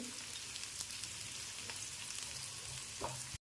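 Onions sautéing in a pan for Maharashtrian misal pav, a faint, steady sizzle with a couple of light stirring taps, no voices.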